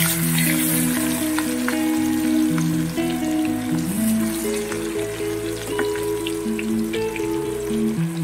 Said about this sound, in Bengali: তেল গরম হয়ে গেছে, এবার আমি মাছগুলোকে ভেজে নেব।